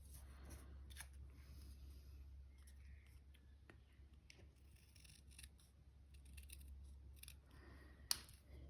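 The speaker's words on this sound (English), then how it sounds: "And then I'm going to trim the bottom off." Scissors trim paper for a handmade card, a series of faint, crisp snips spaced irregularly over a low steady hum, with one sharper cut near the end.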